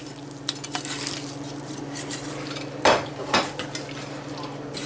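Seasoned shrimp are mixed with salt and pepper in a bowl, giving light clinks and scraping taps of a utensil against the dish, with a couple of louder knocks near the middle, fairly quiet and close.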